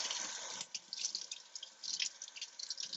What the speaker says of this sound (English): I'm just gonna bring it over to my sink, and then all you do is like rinse it off